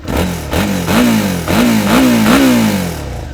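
Suzuki SV650 motorcycle with a V-twin engine revved in close, loud repeated throttle blips rising and falling about five times before settling back toward idle.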